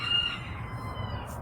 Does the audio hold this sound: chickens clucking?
yes